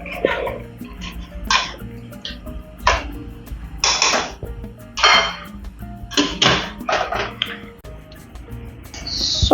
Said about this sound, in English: I need to stir.